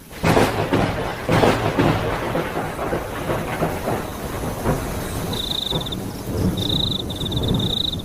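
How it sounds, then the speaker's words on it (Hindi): Steady roar of heavy rain with low rumbling thunder, loud and continuous, with a few brief high whistling tones near the end. "बाहर तेज तेज बारिश और बिजली कड़क रही होती है।"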